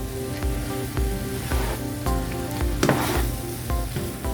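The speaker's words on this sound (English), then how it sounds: "I'm gonna add my green onions. And I'm gonna stir again." Green onions are stirred into chicken chow mein frying in a pan, with a continuous close sizzle and scattered scraping, clicking taps of the utensil throughout.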